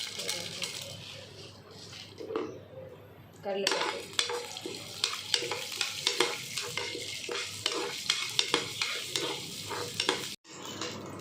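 Chana dal and onion fry in hot oil with a bright crackling sizzle. Repeated metal stirring clinks and scrapes against the pan grow busier partway through, then stop abruptly near the end.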